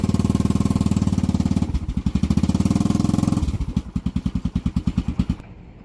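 The fuel station pump on a Grand Design Momentum RV runs loud and close with a fast, pulsing chug, shifting its beat a couple of times before cutting out abruptly.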